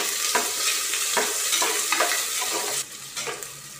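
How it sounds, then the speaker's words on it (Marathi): Two chopped onions hitting hot oil in a pan for rice khichdi and being stirred, a steady sizzle broken by a few scraping stirs, then quieter frying. "आता हे 2 कांदे चिरलेले टाकून घेते. आता याची फिरून घेते."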